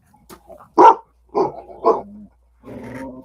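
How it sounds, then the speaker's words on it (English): A dog barks several times close by in short, loud bursts, ending in a softer whine-like growl, with no talking over it. "Do you hear that? Maxine, you hear the doggy?"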